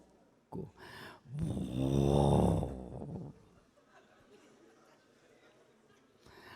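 A voice imitates a car engine roaring, a rumbling, snorting vocal revving that swells loudly for about two seconds, with brief speech before it and quieter murmurs after.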